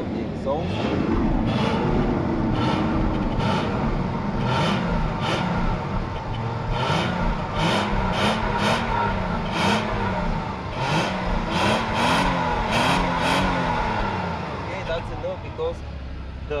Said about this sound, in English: please go to the back so that I can show the sound of the exhaust